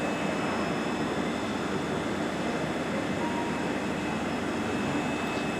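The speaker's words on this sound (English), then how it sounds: "This is the train I taken from Rugeley Trent Valley to Stafford, and he arrived on platform 7" A train standing at platform 7 of Crewe station, a steady broad rumble and hum of the engine with a faint high whine, constant and close throughout.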